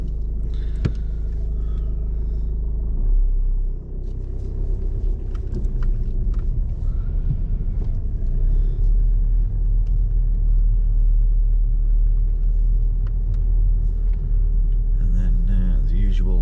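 A car engine rumbles loud and close from inside the cabin as a learner driver pulls away during a lesson, with a low steady drone and talk in the car.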